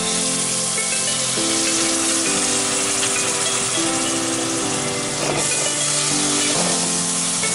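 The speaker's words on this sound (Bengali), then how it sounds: "এখন নেড়েচেড়ে দিয়ে দিচ্ছি সামান্য জল।" A little water goes into prawn masala frying in a pan, setting off a loud, steady sizzling hiss that runs continuously throughout, with music playing underneath.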